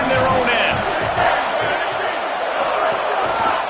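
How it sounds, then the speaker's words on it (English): Stadium crowd roaring in an NCAA college football video game, a loud continuous wall of cheering and shouting that runs the whole time under a commentator's voice. "The roar of the crowd trying to fuel this defense to keep them pinned in their own end."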